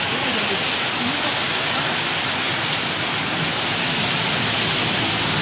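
Heavy rain pours down during a storm in Sylhet, a dense, loud, unbroken roar of water close by with no pauses.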